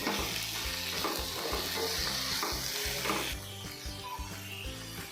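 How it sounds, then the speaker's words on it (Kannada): Cumin and black pepper frying and being stirred in a pan for a flat bean palya, with a steady loud sizzle and repeated scraping strokes, easing slightly quieter toward the end. "ಇದನ್ನೆಲ್ಲ ಚೆನ್ನಾಗಿ ಫ್ರೈ ಮಾಡ್ಕೋಬೇಕು."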